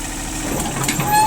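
A Japanese mini excavator with a 0.01 cubic metre bucket runs steadily while its hydraulic blade is worked, a close, loud, continuous engine drone with a faint whine over the top and brief speech in the background.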